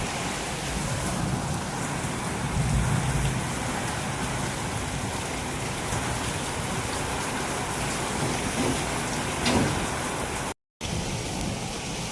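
Steady rain with wind around the Diwali season, a continuous broad hiss of falling water that stays even throughout, with a brief dropout near the end.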